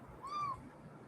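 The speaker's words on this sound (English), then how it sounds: "His little scream, his little meow." A single short meow from a cat, fairly close, rising and falling over about a third of a second against a quiet background.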